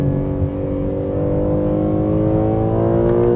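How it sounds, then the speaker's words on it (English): A BMW M3 Competition sports sedan revving hard in a straight-line pull under full acceleration, with a loud, rising engine note heard from inside the cabin. "I can hear the engine noise being pumped into the cabin"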